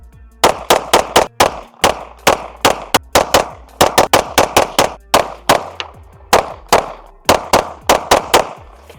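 Arma Zeka AZ-P1 Vigil pistol fired in rapid strings of sharp, loud shots, about ten in uneven bursts of two and three with brief pauses, each crack ringing out with a short echo.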